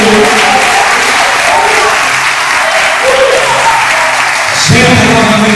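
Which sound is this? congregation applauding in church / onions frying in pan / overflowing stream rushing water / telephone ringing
congregation applauding in church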